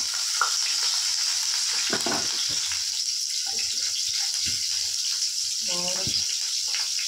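Oil sizzling steadily in a pan as cumin seeds and onion go in for mutton dalcha, a continuous frying hiss with occasional stirring clatter and a brief voice in the background.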